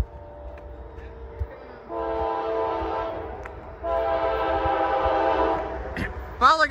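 A CSX freight train rumbles past at Washington Grove in Gaithersburg, Maryland, with a low, steady mechanical roar that swells in two long waves, ending with a few sharp metallic squeals.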